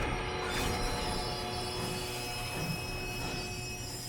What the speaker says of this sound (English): But I gotta stop the train.